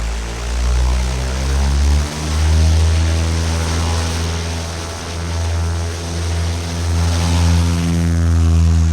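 A small propeller airplane climbing after takeoff with flaps being reduced, its engine a loud, steady droning roar with a strong buzzing hum throughout, close up, with no talking.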